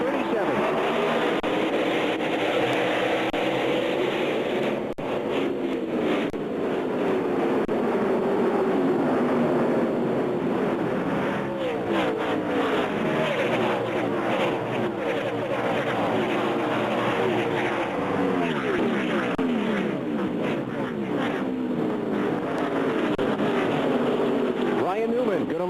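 NASCAR race cars roar around a one-mile track in a 500-kilometer, 312-lap race before a large crowd, making a dense, continuous engine drone with shifting pitch, and a commentator talks over it.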